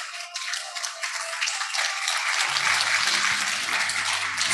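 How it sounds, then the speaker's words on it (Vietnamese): An audience at a Vietnamese launch event celebrating an ITC partnership bursts into sustained applause, dense clapping building and holding loudly throughout, with low murmurs joining in the latter half. "xin quý vị một tràng pháo tay thật lớn được không ạ?"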